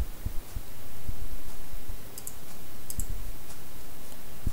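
Computer mouse clicks while editing a certificate name on a computer, sharp close clicks scattered irregularly over a steady low background hum, no talking.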